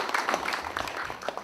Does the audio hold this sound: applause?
yes